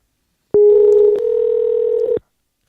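A telephone dial tone comes on abruptly and holds loud and steady for nearly two seconds, shifting pitch slightly midway, then cuts off into silence.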